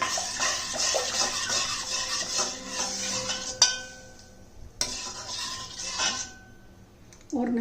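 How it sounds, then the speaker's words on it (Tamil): Rice being stirred lightly with a ladle in a pot for a bitter orange rice dish, giving soft scraping and clinking that comes and goes in a couple of bursts, with a short pause between them. "அந்த கரண்டியில் நம்ம லைட்டாக அந்த மாதிரி கிண்டி விட்டுட்டு"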